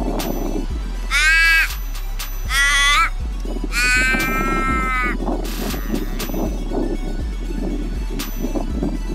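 Large birds screech and caw loudly on Cottesloe Beach in Perth, three long harsh calls in the first five seconds over steady wind and surf, then quieter calls farther off.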